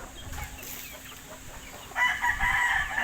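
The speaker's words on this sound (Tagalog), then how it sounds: "Pakain naman tayo ng ating mga manok." Backyard chickens cluck steadily at afternoon feeding time while a rooster crows loudly near the end, the flock close by with no talk.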